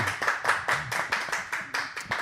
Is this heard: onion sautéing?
no